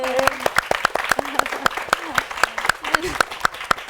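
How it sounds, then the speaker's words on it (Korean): Church congregation applauding during a talk by a young doctor, with sharp, fairly close hand claps over ongoing voices. "우리 박수 한번 해요"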